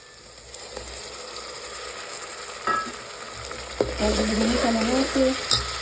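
Spice masala of tomatoes, soaked chilli, turmeric and coriander-cumin powder frying in a pan for urad dal in a village kitchen, a steady sizzle with stirring scrapes and a few faint background sounds.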